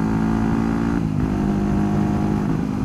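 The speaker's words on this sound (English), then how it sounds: "Got a Husqvarna 450 up there in the front, and KTM 690 there in the middle in front of me." Supermoto motorcycles, a Husqvarna 450 and a KTM 690, ride ahead on a twisty road, giving a steady, continuous engine drone throughout with a slight swell partway, close and unbroken, with no talking.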